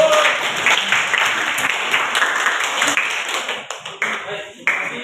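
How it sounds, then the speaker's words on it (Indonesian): A classroom of students applauds their classmates, a dense burst of many hands clapping that thins into scattered claps toward the end. No voices are heard. "Tepuk tangan buat teman-teman."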